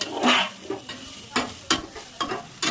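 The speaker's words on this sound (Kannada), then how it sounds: "ಈಗ ಇದು ಗೋಲ್ಡನ್ ಬ್ರೌನ್ ಬರೋವರೆಗೂ ಹುರ್ಕೊಳ್ಳೋಣ. ಅದು ಚೆನ್ನಾಗಿ ಮಿಕ್ಸ್ ಆಗಬೇಕು ಶುಂಠಿ ಬೆಳ್ಳುಳ್ಳಿ" Ginger and garlic fry in a pan for noodles. A low sizzle runs throughout, broken by several sharp, close stirring scrapes at irregular intervals, with no speech.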